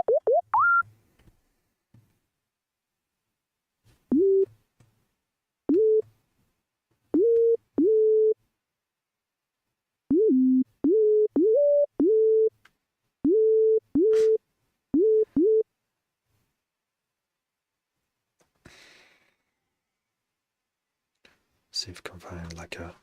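Short square-wave analog synthesizer notes in a music production session, a quick rising blip followed by a series of brief, evenly repeated mid-pitched tones with small pitch bends, then a faint hiss and rustle at the end.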